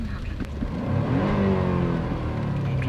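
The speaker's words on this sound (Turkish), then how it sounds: "Otomobilin motoru devirden kompresyona geçerken enteresan bir sallantı." An Alfa Romeo Giulia Quadrifoglio engine revs up close, its pitch sweeping upward and then holding at a loud, steady drone with no talk over it.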